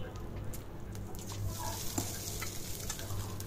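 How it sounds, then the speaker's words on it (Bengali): Papaya flowers stirred in a pan with coriander powder, ginger-garlic paste, turmeric and salt, a soft continuous sizzle under close, irregular stirring and scraping. "তো আর একটু নাড়াচাড়া করে নেবেন,"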